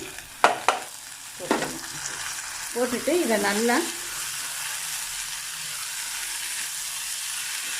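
Chopped vegetables being stirred in a frying pan for kichdi, with a few sharp scrapes and clatters followed by a steady soft sizzle, while a person speaks briefly over it.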